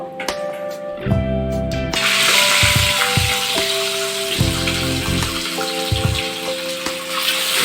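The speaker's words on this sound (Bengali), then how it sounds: "সেম প্রসেসে আমি বাকি মাছগুলো ভেজে নেব।" Pieces of rui fish frying in hot oil give a steady, hissing sizzle that swells after a couple of seconds and continues beneath loud background music.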